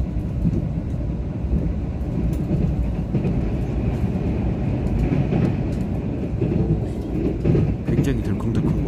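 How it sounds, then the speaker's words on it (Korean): A Mugunghwa passenger train carriage rattles and rumbles steadily over the rails, a loud, continuous clatter with rhythmic clanks heard from inside, while someone talks over it. "굉장히 덜컹덜컹거려요."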